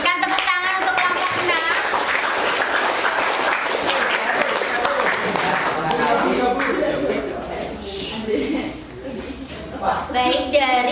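A classroom audience claps steadily for a presenting group at a teachers' training session, dense applause running nearly throughout with a brief dip near the end before clapping swells again.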